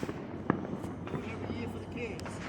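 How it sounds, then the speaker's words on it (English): Fourth of July fireworks in Allentown pop and crackle at a distance, with one sharper bang standing out over a constant hiss of crowd noise and people talking. "Mad fireworks, yo."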